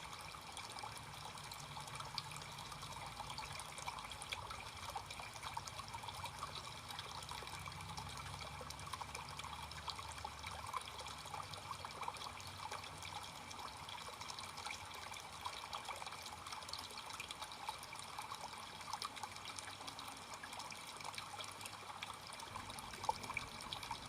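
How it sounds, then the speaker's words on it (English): Water trickles steadily in a park fountain, a soft continuous splashing and babbling heard from nearby with no other sounds. "listen to the water trickling"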